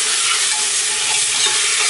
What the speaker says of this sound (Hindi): हुण इन्हां प्याजां अच्छी तरह होन देवांगे लाल